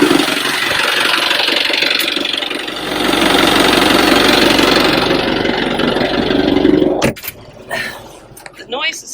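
A 25-foot Ranger tug boat's engine runs in a steady idling drone, a loud continuous rumble that gives way to clunks and handling noises near the end, with speech partly over it.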